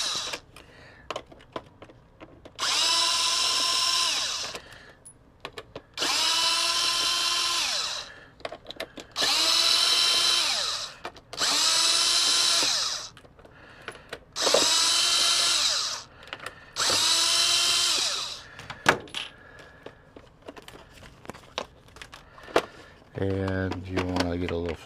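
A power driver backs T15 Torx screws out of a Ford F-150 odometer display in six separate whirring bursts, each a couple of seconds long, loud and close, with quiet gaps and faint handling noise between them.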